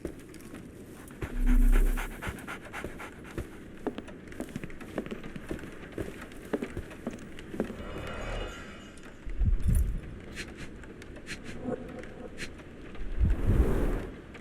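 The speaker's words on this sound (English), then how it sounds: "So, Barnes has a dog now." A dog pants steadily in the video game Sherlock Holmes: The Awakened, quick rhythmic breaths close by, with a few louder low thumps and brief rustles.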